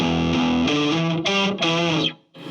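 Heavily distorted electric guitar driven through an OCD overdrive pedal, playing a dirty rhythm part of sustained chords that change every half second or so, loud and upfront, then cutting off briefly near the end before resuming.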